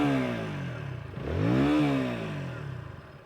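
KTM Duke 160 motorcycle, idling at first, then revved once with a rising and falling sporty exhaust note that swells in the middle and settles back to a steady idle, heard close.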